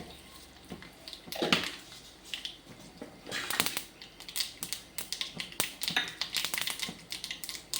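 Mustard seeds splutter in hot oil while tempering for dhokla, giving irregular sharp crackles and pops in quick bursts, some close and loud, others lighter, with a soft background hiss.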